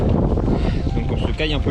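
Gusty wind buffets the microphone on a chilly mountain pass in the Italian mountains, a steady roar and rumble running throughout beneath a person's talking voice.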